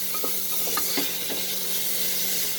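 Tomatoes tipped into a sizzling pan of chicken and chana dal lentil curry, giving a steady close frying hiss with a few soft stirring scrapes and no talk.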